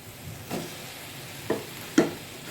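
Bitter gourd and potatoes go into a pan where fish is frying: a soft, steady sizzle with three distinct stirring knocks spaced about half a second apart.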